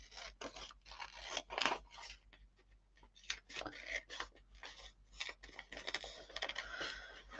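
Scissors cut through magazine pages in a quiet, close series of irregular snips and crisp paper rustles.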